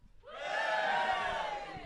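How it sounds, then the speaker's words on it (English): An audience at a live comedy chat show roars out a sustained cheer after a brief ragged start, a broad crowd shout of whoops and yells that holds for over a second and a half, then eases off. "Give me a cheer if you're only here because you know me"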